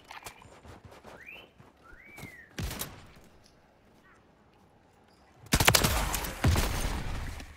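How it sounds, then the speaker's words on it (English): Sniper rifle shots in a multiplayer shooter game, a few sharp, loud cracks separated by quiet gaps, then a denser burst of gunfire near the end, with whistling tones early on. "They're all sniping."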